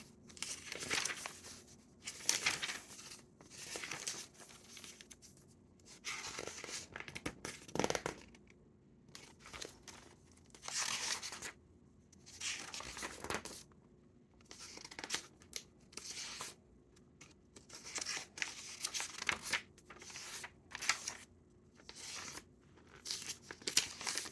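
Tea-dyed paper, not oven-baked, crinkles and rustles in repeated bursts, crisp but soft, with short pauses between handlings and no talking.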